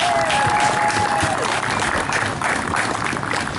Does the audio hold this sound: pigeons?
no